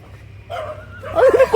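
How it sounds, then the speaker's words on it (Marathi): A dog barks near an old well in Alibaug, India, letting out a short burst of close, loud barks and yips over a faint low background hum. "कुत्रा"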